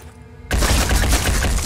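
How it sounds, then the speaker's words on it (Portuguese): Gunfire in Phoenix Point, played in the Year One Edition, erupts suddenly after a quiet moment into a loud, dense, sustained burst that continues to the end. "Vou atirar."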